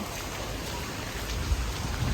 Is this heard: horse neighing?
no